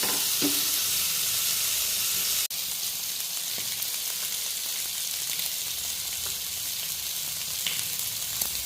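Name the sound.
vatta fish frying in a pan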